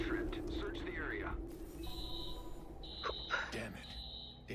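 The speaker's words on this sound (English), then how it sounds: "Alarm's been tripped." An alarm tripping in the video game Watch Dogs, a steady electronic alarm tone sounding in bursts under in-game voices talking.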